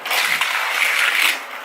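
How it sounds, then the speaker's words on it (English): A Disney Cars 3 Thunder Hollow Criss-Cross toy car crashing on its plastic track, a close, dense rattling clatter lasting over a second before tailing off. "Oh, it crashed."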